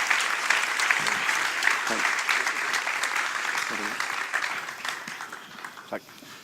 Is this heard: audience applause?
yes